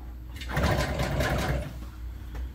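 A sewing machine stitches bar stool upholstery, running in a steady close whir for about two seconds before slowing near the end.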